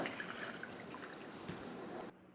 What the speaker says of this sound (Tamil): அரைச்சிட்டோம் இப்போ தண்ணி ஊற்றிக்கலாம்